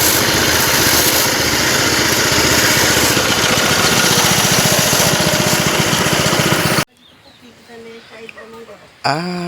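A cassava-grinding machine roars loudly and continuously with a buzzing engine drone, then cuts out abruptly near the end, leaving quieter background sounds and a brief burst.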